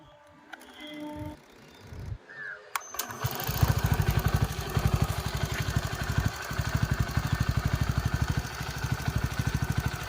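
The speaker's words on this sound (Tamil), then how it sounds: "பார்த்தீங்கன்னா இப்போ வண்டி ஸ்டார்ட் பண்ணுறோம்." A TVS XL 100 BS6 moped, repaired for a throttle body, TPS sensor and starting fault, is cranked after a few handling clicks, then catches and settles into a loud, even, rapidly pulsing single-cylinder idle nearby.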